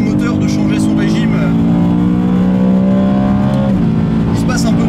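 A BMW M3 E92 on a race track, its engine note holding steady then shifting revs as the gearbox changes gear, loud and close, with a voice talking over it.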